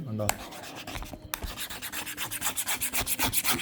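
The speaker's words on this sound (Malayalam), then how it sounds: "ആണി വെച്ചിട്ട് നമ്മൾ വരയ്ക്കുമ്പോൾ നേരത്തെ അതിനെക്കാട്ടും നല്ല കട്ടിയിൽ കണ്ടില്ലേ, നല്ല കട്ടിയിൽ സ്ക്രാച്ച് ആവുന്നുണ്ട്" An iron nail scratches the back of an iPad in quick back-and-forth strokes, a close, rhythmic, gritty scraping that speeds up into regular pulses after a short pause.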